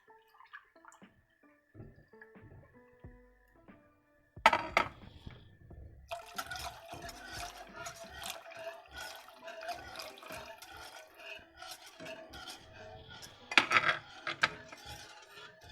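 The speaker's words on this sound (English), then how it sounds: "I'm going to add the 2nd cup of milk." A second cup of milk is poured into a saucepan for a pretzel-bite cheese sauce, giving a soft liquid splashing and trickling that starts suddenly partway through and continues at a moderate, close level with a few stronger splashes.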